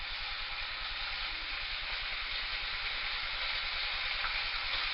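Lean back bacon sizzles in a copper frying pan with a little olive oil, a steady close hiss and crackle that holds at an even level with no talk.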